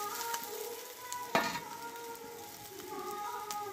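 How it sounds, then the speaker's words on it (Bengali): Potatoes cooked with spring onions sizzle in a pan, a quiet continuous frying hiss with one sharp scrape of stirring midway, close and unaccompanied by speech. "এইবার আমি এখানে কষে রাখা আমি আলুগুলোকে ঢেলে দেব।"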